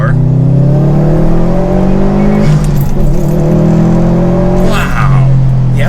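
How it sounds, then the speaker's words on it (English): A Subaru WRX STI accelerates flat out in second gear, its engine note rising steadily and loudly from inside the cabin, with a brief dip at a shift-like break before climbing again. "Do a second gear just all the way to the floor."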